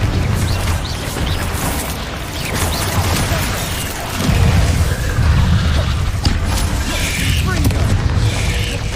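Fiery blasting-spell explosions in Hogwarts Legacy, heavy low booms and crashes recurring across the stretch with dense game noise throughout, loud and close.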